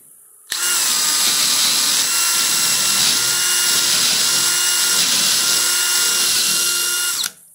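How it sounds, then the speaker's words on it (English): A power drill bores a hole through the steel frame of a 6x12 utility trailer, starting abruptly and running at a loud, steady whine for about seven seconds before cutting off. "here we go with hole number one"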